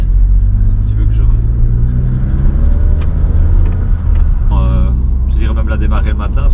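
A cold Ford Fiesta ST engine fires up and settles into a steady low rumble close by, with a brief dip and restart partway through, while people talk over it.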